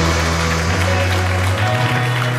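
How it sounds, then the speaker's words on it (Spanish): Studio audience applause on a Spanish television talk show, a steady wash of clapping with music tones running underneath. "quiero que la recibamos con un fuerte aplauso"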